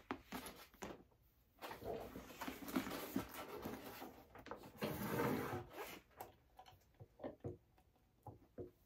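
Metal rivets being set on a handmade bag, with a run of sharp taps and knocks, a louder burst of rubbing and clatter midway, then scattered single clicks trailing off near the end.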